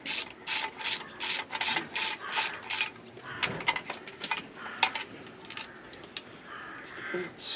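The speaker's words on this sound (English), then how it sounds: "So I'll just remove the bolts." Bolts are loosened and removed from the clutch slave cylinder cover on a Honda Shadow motorcycle, giving a run of quick rhythmic ratcheting clicks followed by scattered metallic clinks and handling noises up close.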